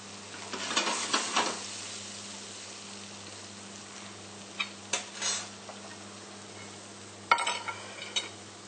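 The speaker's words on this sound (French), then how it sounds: "le temps de déglacer la poêle avec le fond de gibier" A frying pan is deglazed with game stock after searing kangaroo fillets, a soft steady sizzle broken by a few sharp clinks and scrapes of a utensil against the pan, close and without voices.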